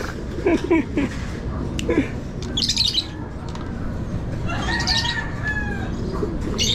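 Lovebirds in a breeder cage chirp and flutter in short bursts, with sharp high calls and wing flaps over a steady background hum, the birds sounding close.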